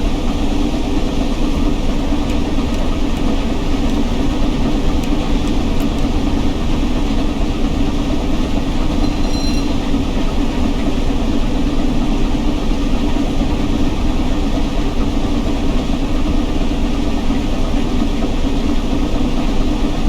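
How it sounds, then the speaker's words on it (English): The Flying Scotsman steam locomotive with its double Kylchap exhaust gives a loud, continuous low rumble, steady and unbroken for the whole stretch, with no voices. "the Flying Scotsman still has a double Kill chop exhaust pipe"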